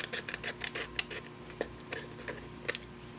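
Small scissors or a craft trimmer snip excess vellum from the edge of a handmade Halloween card, giving a quick series of light, close clicks and cuts in an otherwise quiet room.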